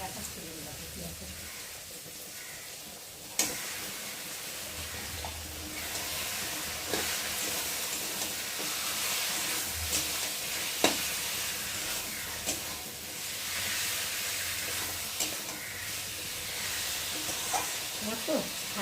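Chicken and spices fry in a pan with a continuous, fairly loud sizzling hiss, broken by occasional clacks of a stirring utensil, while a voice is faintly present.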